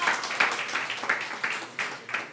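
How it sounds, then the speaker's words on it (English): An audience at a comedy show gives a faint round of applause, heard as a quick run of regular, evenly spaced claps. "Give me a big round of applause for that."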